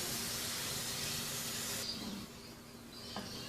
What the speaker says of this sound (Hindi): ये भी हल्का सुनहरा फ्राई करेंगे।